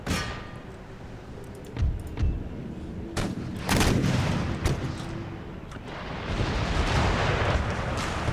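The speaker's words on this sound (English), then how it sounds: "Howitzers fire on their artillery." Howitzer artillery firing in the Empire: Total War strategy game, with several sharp booming blasts spaced irregularly over a rumbling battlefield bed that grows denser toward the end.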